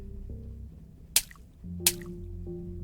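Two sharp, wet drips splash a second apart over low, steady background music during a water fight in the Darkside Detective 2 video game.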